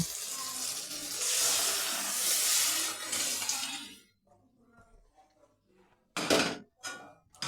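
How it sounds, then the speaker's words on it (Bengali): Boiled potatoes and their broth pour into a pan of cooking spices with a loud, steady gush for about four seconds. After a quiet stretch, a few sharper clatters and splashes of pan handling follow. "এবারে আমি ঝোল সিদ্ধ আলুটা ঢেলে দিব"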